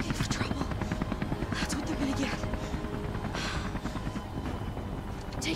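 A helicopter hovers in the Beyond Two Souls video game, its rapid rotor thumping running loud and constant while voices talk over it and occasional sharp bursts break through.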